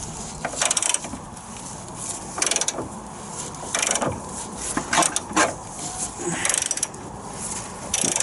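A spanner ratchets and clicks as it winds out a rusted subframe bolt on an Austin Mini, giving a string of close, uneven metallic turning bursts with short pauses between them.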